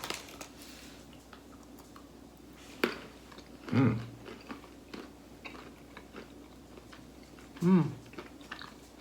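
Someone chews crunchy Italian chocolate candy studded with whole hazelnuts, soft close-up mouth crunches with a few louder bites spread over several seconds, with a brief murmur of voices.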